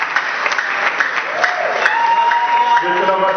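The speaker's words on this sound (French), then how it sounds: "sous vos applaudissements" Audience applause fills a hotel hall at an official film premiere as a producer is ushered in, with steady clapping under an announcer's voice and some crowd noise.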